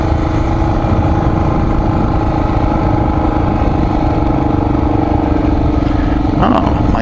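Honda XR400R motorcycle riding along trails near Tellico Plains, its engine droning steadily and loudly throughout with a constant low rumble, no voices.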